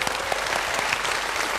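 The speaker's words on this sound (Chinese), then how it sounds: "我们鼓鼓掌吧" A television talk-show studio audience gives a burst of dense, continuous clapping, close and lively, filling the whole moment with no speech over it.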